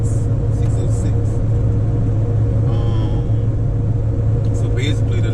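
A car hauler truck rolls down the road with steady low engine rumble and road noise throughout, constant and close, with faint higher noises drifting in and out.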